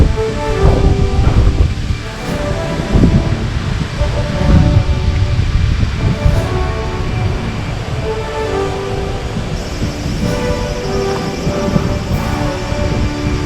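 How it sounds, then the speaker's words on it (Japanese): A strong typhoon wind roars at Katsurahama beach in Kochi as a rough Pacific surf pounds. The loud, gusty rushing and low rumble of wind and waves runs continuously, with a faint voice briefly underneath. "風が吹いてビュンビュンと"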